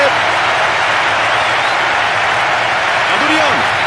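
A stadium crowd cheers after a goal in the football video game Winning Eleven 10, Brazil against Peru: a loud, continuous roar holding steady throughout, with a voice rising briefly near the end.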